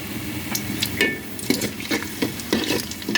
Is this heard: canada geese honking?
no